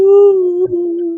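A dog with an injured foot howls once in a long, steady, sustained tone, close and loud, dipping briefly before carrying on to the end.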